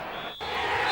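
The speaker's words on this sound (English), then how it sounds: "That's probably why it was such a loud cheer when they won" Stadium crowd roar in the LMA Manager football game as the Coventry side wins, a broad sustained cheer that dips briefly then swells steadily louder.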